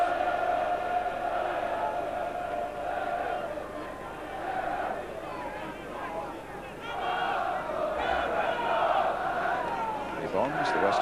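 Football crowd at a Millwall versus West Ham match, a steady roar of chanting and shouting from a packed all-ticket stand, swelling in places, with a commentator talking over it.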